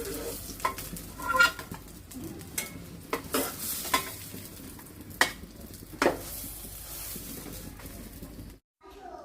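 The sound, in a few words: hilsa fish frying in oil in a wok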